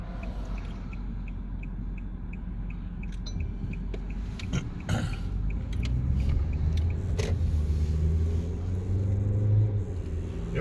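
An old, worn family car driving along a country road, with a steady low engine and tyre rumble throughout, growing slightly louder and rougher midway, with a few faint clicks and knocks from inside the cabin.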